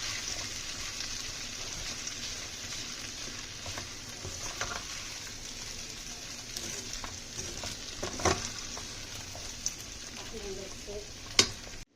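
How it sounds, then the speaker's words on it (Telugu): Sago khichdi with potatoes cooks in a pan, a soft steady sizzle with intermittent stirring scrapes and a couple of sharper knocks near the end. "బంగాళదుంపలు కూడా వేసుకుందాం ఇవన్నిటిని బాగా కలుపుకొని కాసేపు మగ్గనివ్వాలి"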